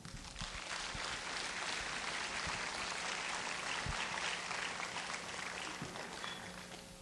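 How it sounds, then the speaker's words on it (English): Faint, distant audience applause welcomes an education governor at a summer workshop in Cheonan, a steady, even patter of many hands with a few sharper thumps underneath. "Please welcome Dr. Kim Jong-sung with a big applause"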